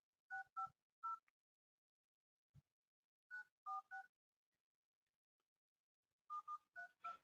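Telephone keypad tones beep as a number is dialed: clusters of short, evenly spaced dual-tone beeps in three bursts separated by pauses, with a faint click between them and no talk.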